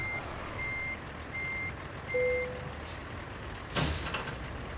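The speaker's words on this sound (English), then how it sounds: "let's go ahead and attach the truck to the trailer." A truck coupling to a trailer gives a repeating reversing beep, then a short tonal note and a sharp burst of air brake hiss, all over a low engine rumble.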